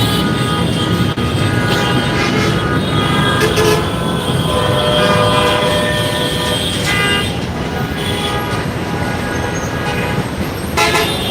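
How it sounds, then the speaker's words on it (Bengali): Heavy night traffic jams a Dhaka street during a shutdown, with a dense rumble of engines and repeated car horn toots, near and far, layered over a constant roar. "ঠিক রাস্তাতে কিন্তু তীব্র যানজট"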